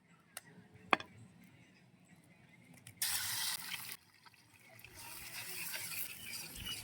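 Egg cracked into hot oil on a heated tawa, a few faint ticks first, then a sudden burst of sizzling that drops off and swells back into a steady frying hiss.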